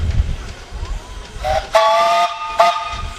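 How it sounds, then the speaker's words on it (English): Two loud steam whistle blasts from a steam traction engine in a threshermen's reunion parade, a short one then a longer one with a brief gap, over a low chugging rumble and hiss. "You bet it has a whistle."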